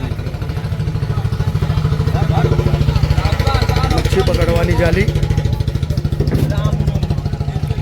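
A fishing boat engine at a seaside harbour in Gujarat runs steadily with a dense, rapid diesel-like chug throughout, close and loud, while someone talks over it.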